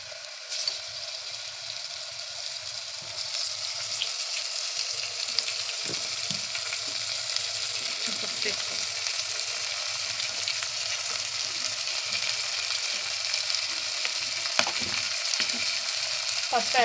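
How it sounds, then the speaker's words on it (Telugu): Mutton keema frying in oil in a home kitchen pan, a steady, loud, close sizzle that carries on unbroken, with occasional faint scrapes of stirring and no speech. "నూనెలో ఒకసారి బాగా వేగాలన్నమాట కీమా అనేది."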